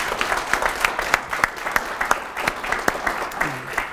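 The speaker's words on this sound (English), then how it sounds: "How about a wonderful round of applause?" Audience applause for a keynote speaker at a chapter meeting, a modest crowd clapping in distinct, uneven claps close by, continuous for several seconds with a brief voice near the end.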